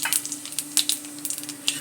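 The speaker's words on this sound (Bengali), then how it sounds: "তেল গরম হয়ে গেছে। তেজপাতা" A bay leaf sizzles in hot oil in a wok, giving bright, crackling spatters and pops over a faint steady hum, close and fairly loud.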